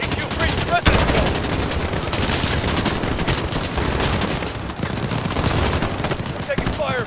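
Dense, sustained automatic gunfire in Call of Duty Modern Warfare (2019) during a residence breach, loud and continuous throughout with overlapping bursts and some radio-style voices mixed in.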